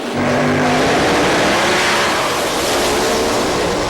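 An alcohol funny car drag racer at an IHRA drag strip, its engine revving to a loud, sustained roar that fills the air, with a faint announcer voice early on.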